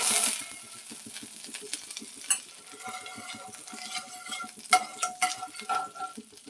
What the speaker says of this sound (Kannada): ತಗೊಂಡು ಬೆಣ್ಣೆ ಹಾಕ್ಕೊಳ್ತಾ ಇದ್ದೀನಿ.